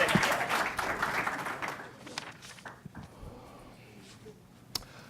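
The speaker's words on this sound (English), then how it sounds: "Let's give them a round of applause." Applause from the audience at a city council meeting starts fairly full, then thins out into scattered, individual claps that fade over a few seconds.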